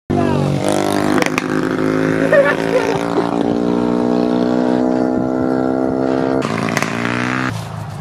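A loud Yamaha motorcycle engine idles and revs nearby, a steady droning roar that swells and drops, with brief shouting in the background.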